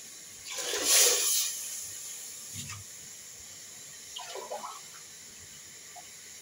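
Water poured from a cup into a cooking pot for khichdi, a short splashing pour near the start followed by a few fainter trickles and small clinks in a quiet kitchen.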